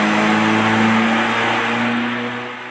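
A 2017 Ford Mustang with a 2.3-liter EcoBoost engine revs up close and loud, holding a steady buzzing tone before fading slightly at the end.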